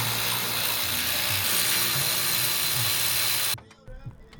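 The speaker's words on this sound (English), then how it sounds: "just take out the top 3 bolts" Ratchet on the strut top bolts of a Nissan 350Z during a coilover install: a steady, close, continuous clicking for several seconds that stops abruptly, leaving brief quieter handling noises.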